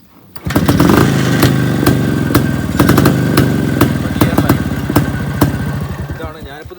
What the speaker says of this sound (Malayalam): ഇതാണ് ഞാനിപ്പോൾ സ്റ്റാർട്ട് ചെയ്ത് വെച്ചോണ്ടാണ് ഒറ്റയടിക്ക് സ്റ്റാർട്ട് ആയത്